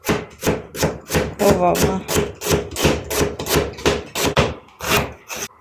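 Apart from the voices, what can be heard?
onion being finely chopped with a knife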